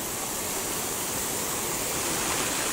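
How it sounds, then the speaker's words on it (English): A garden hosepipe sprays water onto plants in a steady, even hiss and splash, close and constant throughout, with no voices. "Now, I'm going to turn off this hosepipe very shortly"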